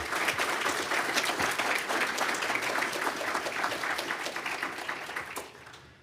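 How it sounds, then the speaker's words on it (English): A crowd at the MSU Comics Forum keynote gives a round of applause for the organising committee, many hands clapping steadily and fairly close, then gradually fading out over the last second. "So let's give these guys a round of applause."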